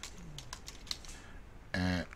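Several light keystrokes on a computer keyboard typing a short name, close and quiet, followed by a brief tonal beep.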